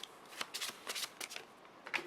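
A dungeon card drawn from a board-game deck: a quick run of soft, papery card slides and flicks, close and fairly quiet.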